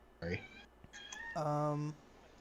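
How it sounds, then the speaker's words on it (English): A house cat shut out of a room meows loudly close by: a short cry, then a longer, drawn-out wail, both clear and alone. "My wife went to take a shower and shut the cat out. Now she's very upset."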